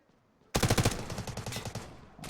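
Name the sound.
gunfire in Delta Force video game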